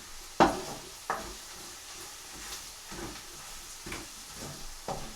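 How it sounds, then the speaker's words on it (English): Chickpea masala stir-fries at low heat in a copper pan, a soft continuous sizzle and hiss with a few sharp clatters from stirring. "10 seconds stir fry before splash of water goes in"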